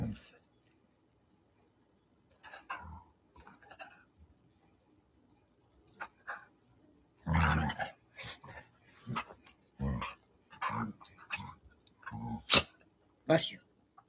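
A small dog named Chico lets out a few sharp sneezes, short bursty snorts spread through the clip amid quiet movement, with someone talking nearby.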